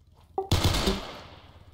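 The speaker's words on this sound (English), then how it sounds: "Shots fired." Gunshots fired at a body-cam scene: a short, sharp cluster of loud, close bangs in quick succession that decay into a fading echo.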